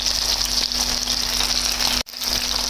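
Fish frying on its second side in a pan, a steady close hiss and crackle of oil that carries on evenly, with one brief dip, and no voices.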